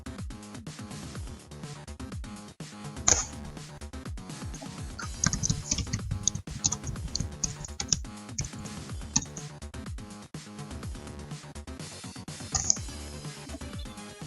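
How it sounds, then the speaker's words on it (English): Rapid typing on a computer keyboard, dense clattering keystrokes in quick bursts with brief pauses, close and fairly loud over quiet background music. "Time for some fast typing"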